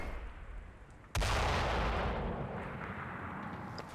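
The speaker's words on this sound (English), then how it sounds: "The initial barrage has been called on the Bocage of Objective Lake." Artillery barrage in the Combat Mission war game, shelling hedgerow bocage in Normandy during Operation Epsom: a sudden loud blast after a quiet rumble, then a sustained, heavy roar of overlapping explosions that slowly eases.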